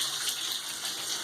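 A bathtub filling from the tap, a steady loud rush of running water splashing into the tub without a break, with no voices.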